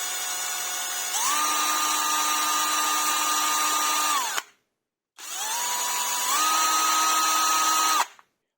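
A 12V cordless drill, Parkside Performance PBSPA 12 C3 or Bosch Professional GSR 12V-35 HX, runs in two close, loud bursts of steady whine of about four seconds each, rising in pitch partway through and stopping cleanly, with no voices.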